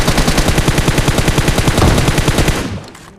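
Sustained automatic gunfire in PUBG Mobile, a rapid, evenly spaced burst of loud shots running for over two seconds before cutting off, with no voices.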